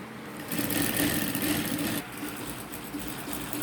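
A sewing machine runs steadily while stitching fabric for a coat, giving a continuous close, mid-level mechanical whir with a slight drop in intensity partway through and no talking.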